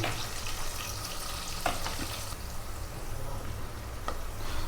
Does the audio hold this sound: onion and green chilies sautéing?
yes